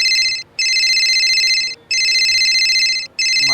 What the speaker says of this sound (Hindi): मालिक का फोन।